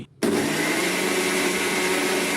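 A mixer grinder starts abruptly and runs at full speed, a loud, steady motor whine with no pauses, then cuts off.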